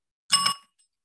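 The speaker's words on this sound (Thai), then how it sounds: "ชอบป่ะกระดิ่งเนี้ย" A single bright bell ding, sharp and ringing with a quick fade, close and alone in silence.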